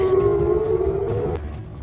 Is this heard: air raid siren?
yes